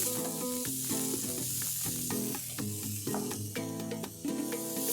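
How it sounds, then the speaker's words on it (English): Red and green capsicum, shredded carrot and cabbage stir-frying in hot oil with garlic paste, a continuous bright sizzle with occasional stirring knocks, heard under loud background music. "We just have to stir fry it for 1 or 2 minutes"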